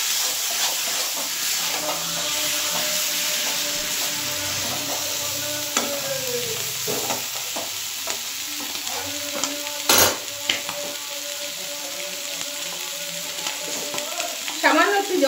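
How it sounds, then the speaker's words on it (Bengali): Chicken stomach being stirred and sautéed in a pan, a steady close sizzle and hiss with scraping stir strokes throughout and a sharp clatter near the middle. "দেখুন, এটা দিয়ে আমি খুব ভালো করে একটু কষিয়ে নেব আর অল্প অল্প জল দেব,"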